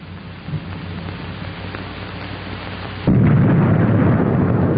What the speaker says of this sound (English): The explosion is only seconds away.